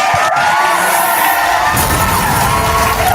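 A crowd cheers and whoops loudly with a bang near the start, a steady wall of celebratory shouting that carries on to the end without any talk over it.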